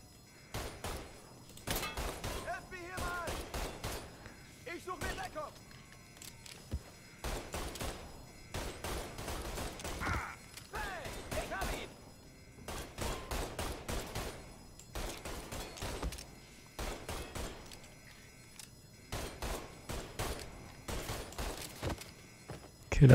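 Gunfire in the video game Mafia 3, with repeated bursts of shots in irregular volleys spread across the whole stretch. The shots are quiet and fairly distant-sounding.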